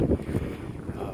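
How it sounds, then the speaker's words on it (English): Gusty wind buffets the microphone in low, rumbling bursts, close and muffled, with no voices. "Sorry about the wind, y'all. It's windy"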